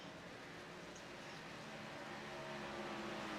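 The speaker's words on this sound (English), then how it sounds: "You can hear the raw power of this 36 car going around the speedway right now." A racing car engine in a racing video game drones at a distance, a faint, steady whine of the number 36 car circling the Homestead speedway.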